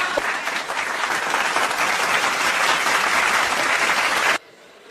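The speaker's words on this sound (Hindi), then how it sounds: "तालियों से एक बार जोरदार तालियों से स्वागत कीजिए लाइनों का।" Loud, dense applause from the audience at a Dalit literature poetry gathering fills the space evenly for over four seconds, then cuts off abruptly into quiet room tone.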